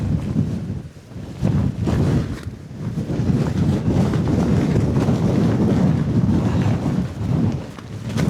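Strong storm wind gusts against a Nordisk Svalbard tent's inner pitch, heard as a loud, continuous low roar with steady rumbling buffeting and a brief dip near the start, and no talk.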